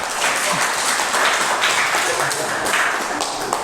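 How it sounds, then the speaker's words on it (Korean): A group claps in welcome during a Catholic parish catechumen class. The dense, steady applause fills the room throughout, with some voices mixed in. "박수도 좀 쳐주고"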